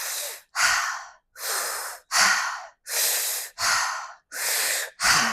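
Close, clearly audible breathing during a vinyasa yoga flow: eight even breaths, each lasting under a second, separated by short silent gaps in a regular, unhurried rhythm.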